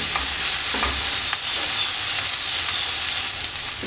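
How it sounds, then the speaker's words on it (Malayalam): Onions and curry leaves sizzle loudly and continuously in hot oil in a pan, a dense unbroken frying hiss with a few soft stirring knocks near the start. "ഈ ഉള്ളിയൊന്ന് നല്ലതുപോലെ വഴണ്ട് വരട്ടെ"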